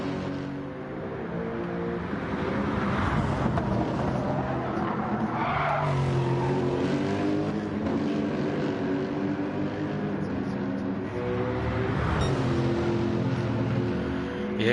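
GT3 race cars lapping in a sim racing game, a steady loud engine drone with rising and falling revs and gear changes, tyre squeal mixed in, continuous throughout with no talk.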